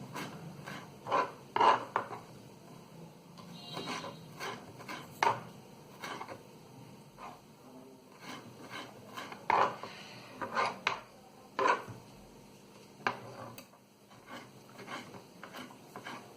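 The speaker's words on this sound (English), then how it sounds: "I'm chopping down some of the coriander leaves for my tomatoes, for my salsa dip." A knife chops coriander leaves on a board in irregular bursts of sharp taps, close by, with quiet pauses between.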